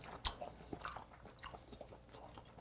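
Chewing on dried yellow croaker (bori gulbi) with green-tea-soaked rice at a Korean set meal; one sharp bite near the start, then soft, quiet, irregular mastication close to the mouth, with no talking.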